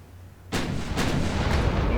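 Main guns fire from a German warship in a 1920s naval battle in the Ultimate Admiral Dreadnoughts video game, a sudden loud broadband blast after a quiet moment, then a sustained rumbling roar with a second thump.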